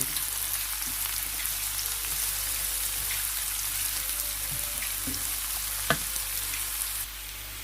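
Onions fry in oil until browning, a dense continuous crackling sizzle heard close and alone, with occasional stirring clicks and a sharper pop late on.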